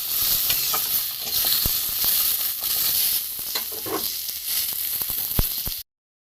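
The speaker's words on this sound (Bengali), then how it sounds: "হালকা যা তেল আছে ওতেই আমি আলুটা ভেজে নেব" Potatoes frying in a small amount of oil in a pan after pointed gourd pieces are removed, a continuous close sizzle with occasional pops and clicks from stirring, steady and moderately loud throughout before cutting off.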